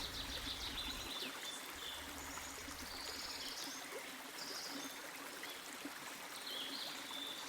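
A gently flowing river stream, a soft continuous wash of water heard from a moderate distance, with faint bird calls scattered above it and no voices.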